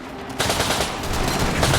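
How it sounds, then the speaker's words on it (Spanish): Infantry gunfire and machine-gun fire in a Second World War battle, heard as a loud, dense burst of rapid shots that begins abruptly and continues steadily. "La infantería empezó a disparar y se retiraron hasta el cruce del que habían venido."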